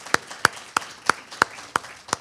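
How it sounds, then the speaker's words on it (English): Applause for three panelists at an academic colloquium, heard as evenly spaced, sharp handclaps about three per second, fairly close and sparse, like a small group or a single person clapping. "I think we need to just applaud our three panelists"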